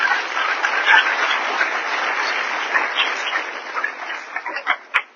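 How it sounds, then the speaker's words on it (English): An audience at a coaching seminar applauds the event's MC: sustained clapping from a room full of people for about four seconds, then thinning into a few scattered claps before stopping. "Let's clap our hands for our MC of the day."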